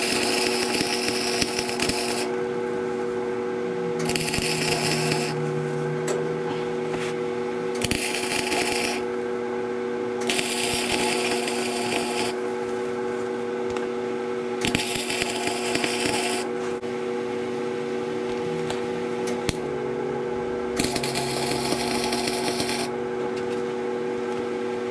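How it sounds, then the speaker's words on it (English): Welding on Model A wishbone mounts, a repeated buzzing crackle in bursts of a few seconds each separated by pauses, close and steady with no talk. "Time to fire up the welder"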